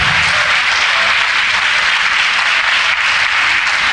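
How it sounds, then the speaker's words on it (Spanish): A crowd applauding loudly and steadily at a church service, dense clapping that holds an even level for several seconds without talk. "Denle un aplauso."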